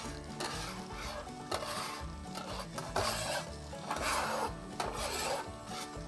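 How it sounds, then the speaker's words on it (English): Olive oil being spread across a hot Blackstone griddle, with steady scraping and rasping strokes of a spatula over a low sizzle, repeated in uneven bursts close by, and no talking. "I'm gonna drop down a little olive oil, y'all. A couple little strips of it, that's all you need. I'm gonna move it around a little bit."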